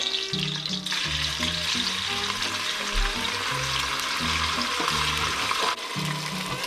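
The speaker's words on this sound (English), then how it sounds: "I'm going to add that bacon back in. That's what you want to hear." Bacon sizzles loudly in a pan on the highest heat for pasta amatriciana, a dense continuous crackle and hiss close up, with occasional stirring and scraping sounds and no voices.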